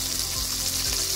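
About 50 grams of butter melts and sizzles in a frying pan that has just held minced pork, giving a steady, close crackling hiss with soft stirring scrapes.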